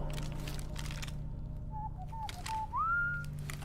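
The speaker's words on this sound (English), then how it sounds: "I did that whistle." A single person whistles a short melody, the theme from Heist, with a few brief notes and then a rising held tone, faint over a low background hum.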